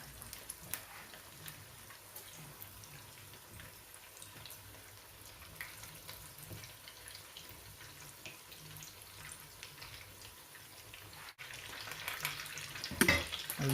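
Chapli kebabs sizzle steadily in a pan of hot oil, Peshawari style, with a continuous crackling hiss that swells louder toward the end, no talking heard.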